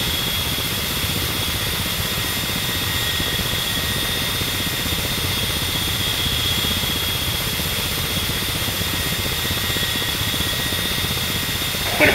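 Inside the DCS Black Shark combat helicopter simulation, a steady rotor and turbine drone runs continuously at constant loudness, with a high engine whine layered over the low thrum and no speech.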